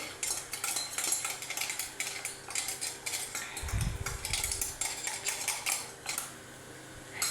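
Whole spices such as cumin and carom seeds tipped out onto a plate in a kitchen, heard as a rapid, continuous patter of tiny clicks and scrapes, close and busy, with no talking.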